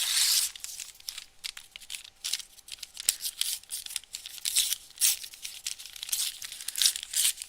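Decorative paper is torn and crumpled by hand for a collage at a prayer flag workshop, with close, repeated crinkling and ripping bursts and no talking.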